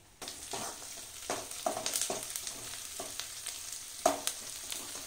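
Tempering sizzling in a hot pan while making poha, a continuous crackling fry with sharp spits and stirring clatters at irregular moments, close and moderately quiet, no voices.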